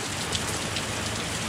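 Rain falls steadily outdoors, a soft, even hiss of drops on surfaces with a few faint nearby patters and no voices.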